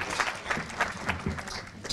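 Applause from guests at a women's awards lunch, a steady patter of many hands clapping at moderate level, with a few brief louder bursts and faint murmuring underneath.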